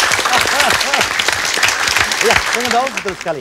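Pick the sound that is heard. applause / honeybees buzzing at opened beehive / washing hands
applause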